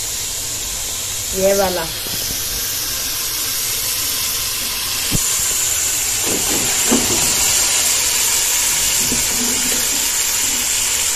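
Meat cooking in a hot pot with a little water in it: a steady, loud hiss of sizzling steam throughout, with voices talking briefly over it.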